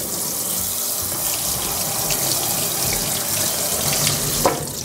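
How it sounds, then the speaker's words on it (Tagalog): A cold tap runs steadily into a sink over cooked macaroni, a constant close splashing stream with a small knock near the end. "Tapos hugasan lang natin ng malamig na tubig."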